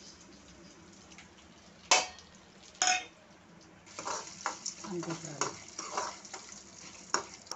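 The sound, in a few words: dried chillies and lentils frying in oil for tempering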